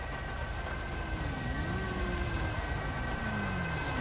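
Ambulance siren in a video game, a steady wailing tone sliding gently in pitch over a constant rumbling engine and traffic bed, with no talk over it.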